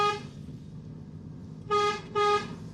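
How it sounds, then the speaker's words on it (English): Dacia Sandero car horn sounding two short toots close by, the second slightly longer, modest in loudness over a faint idling background. "Let's see what the horn sounds like."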